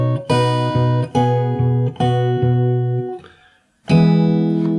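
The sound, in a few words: fingerstyle acoustic guitar playing a song slowly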